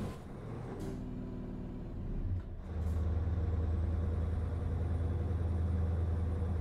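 A Scania S truck engine in the game European Truck Simulator 2, droning steadily, then dipping briefly as a gear shift goes through with a short hiss before the engine settles into a deeper, louder hum.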